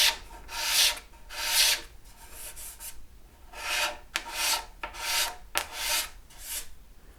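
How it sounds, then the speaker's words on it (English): A small razor scraping down the binding on the side of an ES 335 style guitar body, in about eight rhythmic rasping strokes, close and fairly loud, with no talking. "Take the little razor and gently scrape the binding down."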